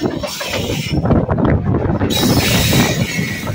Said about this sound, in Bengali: ভাই, কি গাড়ি ঢুকছে